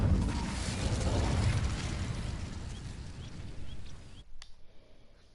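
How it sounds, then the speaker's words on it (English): Incendio fire spell in Hogwarts Legacy igniting dry vines, heard as a loud, roaring burst of flame that swells and fades over about four seconds before cutting off abruptly to quiet ambience with faint clicks. "These dry vines are one spark away from becoming kindling. Incendio!"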